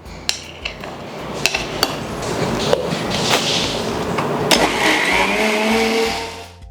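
A kitchen mixer grinder blends homemade mayonnaise: a steady, whirring motor drone runs nearby, with a few sharp knocks and clatters early on and no talk.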